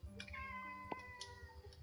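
A pet cat meows softly and briefly, with tonal harmonic cries rising above a quiet room background and no talking.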